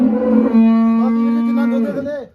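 A single long, close moo from a cow at a livestock sale of dairy cattle and buffaloes, rising clearly and then trailing off after about two seconds.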